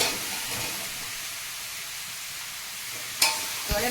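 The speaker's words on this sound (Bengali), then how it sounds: "ভালো করে নেড়ে চেড়ে একটু কষিয়ে নেবো" Pumpkin and potato fry in hot spices with turmeric and salt in a pan, giving a steady loud sizzle and hiss throughout, ending with a couple of sharp scraping stirs near the close.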